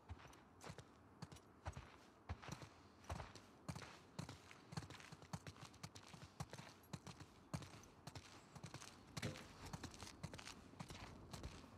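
Horse hooves clip-clop along at a walking pace in The Last of Us Part II, a steady rhythm of soft, close hoof strikes with faint ambient background.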